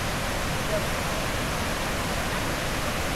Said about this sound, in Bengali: এই যে ঝর্ণার পানিটা উপর থেকে নেমে এই দিক দিয়ে যাচ্ছে